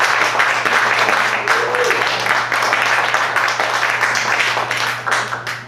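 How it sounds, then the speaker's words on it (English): Steady crowd applause at a jazz combo Hanukkah concert fills the clip, dense clapping from many hands that holds at an even level and tapers slightly at the end. "Let's give Florian a round of applause."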